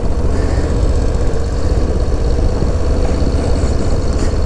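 A Harley-Davidson Low Rider ST motorcycle on a cold ride, its engine giving a loud, continuous low rumble that holds steady throughout, with no talk.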